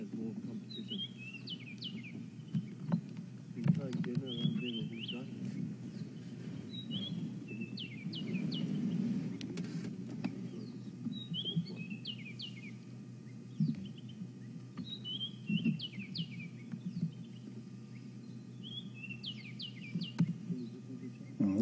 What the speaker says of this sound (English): Listen to all the bird song.